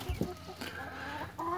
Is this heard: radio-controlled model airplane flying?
no